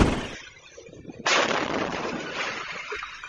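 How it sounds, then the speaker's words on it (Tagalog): Firecrackers blast in Santa Barbara, Pangasinan, the explosion's shockwave caught on camera: a sudden loud broadband burst that gives way to a sustained roaring rumble, dying down only slowly. "may shockwave ng pagsabog na nahulikam din"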